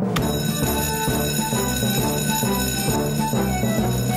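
A fire alarm bell rings in a cartoon fire station, a loud continuous electric ringing that repeats in an even, rapid pattern with no voices over it.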